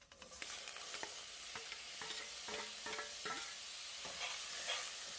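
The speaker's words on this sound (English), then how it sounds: "throw in the veggies and stir to prevent sticking" Vegetables with turmeric powder fry over a low to medium flame in a pan, a constant hiss of sizzling broken by steady scraping stir strokes, quiet and close with no speech.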